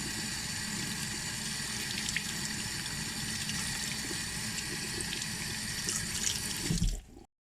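Tap water runs steadily into a sink as soap is rinsed from a fabric face mask, a close continuous splashing rush that stops abruptly at the end.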